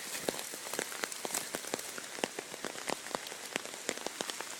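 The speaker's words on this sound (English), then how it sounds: "Hear that? It's raining. I should say pouring" Pouring rain in the woods patters densely on surrounding surfaces, with many distinct drops pattering steadily at moderate volume.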